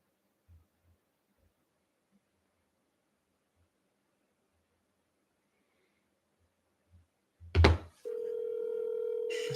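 A telephone line tone on a commercial real estate cold call comes in near the end after a quiet wait and a brief thump, then holds as a steady, even tone.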